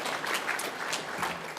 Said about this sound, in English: big round of applause for the organisers for putting on such a good conference